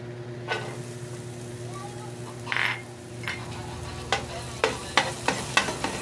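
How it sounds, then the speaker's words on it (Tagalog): Chopped onions sautéing in a pan for bangus Bicol Express: a steady close sizzle with a brief louder hiss midway and a run of sharp utensil clinks and scrapes against the pan toward the end. "Ay, magigisa na po tayo. Unahin po natin ang sibuyas."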